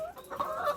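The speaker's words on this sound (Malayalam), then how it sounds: "ഒറിജിനൽ BB380 കോഴിയാണ് എടുക്കുന്നെങ്കിൽ" A BB380 hen clucks in short, moderately loud calls at close range, with no talking.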